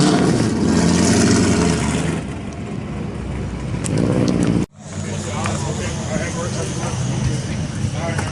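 Cammed cars idle bumper to bumper at a car meet, with a steady loud engine rumble and occasional revs. Wind buffets the microphone and there is a brief dropout partway through.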